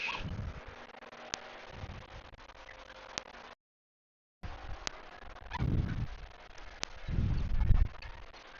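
Soft clucking and low rustling from chickens, including baby chicks, in a barn, with occasional sharp clicks and a brief silent gap, fairly quiet and close.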